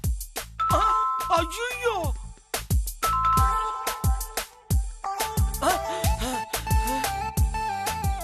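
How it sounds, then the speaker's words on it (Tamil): A doorbell chimes repeatedly in an indoor scene from a Tamil TV serial, its bright ding-dong tones sounding loud and close amid sharp percussive music hits, with a brief exclamation from a voice. "நீங்க அவசரப்பட்டு காலிங் பெல் அடிச்சிட்டு வந்துட்டீங்க"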